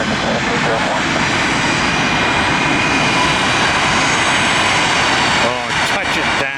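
A Boeing 737 lands at Tampa, a loud, steady roar of jet engines close by that holds throughout and eases slightly near the end as voices speak over it.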